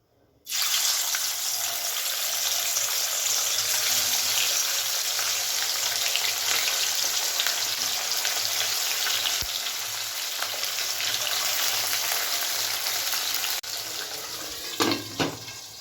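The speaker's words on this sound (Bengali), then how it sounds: "চলুন তাহলে এবারে আমি মাছগুলো ভেজে নিই" Bhetki fish bones fry in hot oil, a loud, steady sizzle that starts abruptly and holds close and continuous, with a brief clatter near the end and no talking.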